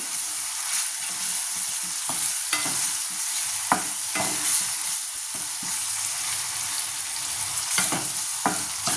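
Thickly cut onion fries with garlic in a pan, a continuous close sizzle broken by repeated scraping and knocking of a spoon stirring, with no speech.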